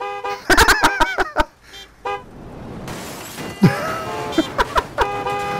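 Cartoonish car horn toots in a game about cleaning up cars, several quick bursts of honking in rapid clusters with brief pauses, loud and close with no talking.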